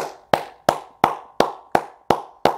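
Eight single claps ring out one after another at a slow, even pace, each one sharp and close, separated by short silences.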